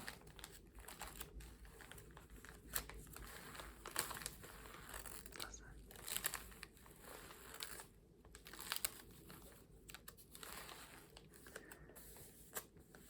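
Old cookbook pages of loose-leaf paper with newsprint glued onto them are handled close up, giving a steady run of soft crinkles, rustles and papery crackles with brief louder flicks throughout.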